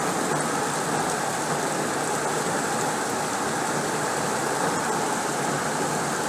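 Heavy monsoon rain pours steadily during flooding, a dense, unbroken roar of downpour close by that holds at one level throughout with no voices.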